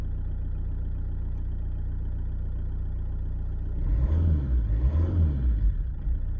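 Renault 19 engine with high mileage idling with a slight misfire, a steady low rumble that turns rougher and louder with uneven pulsing for the last couple of seconds, close by with no talking.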